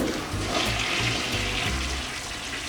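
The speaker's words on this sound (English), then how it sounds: "And now with the new toilet," A newly installed toilet flushes in a freshly repaired bathroom, a close, loud rush of swirling water with gurgling low pulses as the bowl drains and refills, heard without talking.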